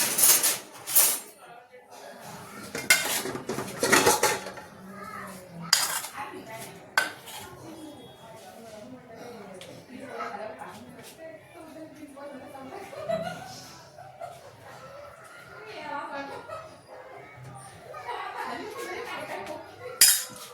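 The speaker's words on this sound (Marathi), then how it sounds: "तर काहीच आता डब्बा भरते कॉलेजसाठी." A lunch tiffin box is filled with cooked vegetable at home for college, with metal clinks of a spoon against steel containers and scattered clatter, while someone talks over it.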